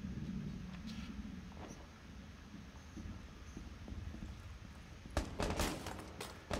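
Sniper gunshots in Rainbow Six Siege on the Kanal map: a quiet, hissing stretch of ambience broken near the end by a few sharp, fairly distant cracks in quick succession.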